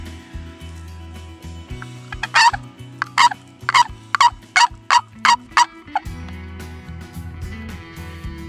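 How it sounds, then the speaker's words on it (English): A wild turkey gobbler gobbles outdoors. About seven loud, rattling calls come in a regular series and stand out over a low steady hum. "How to call in a gobbler."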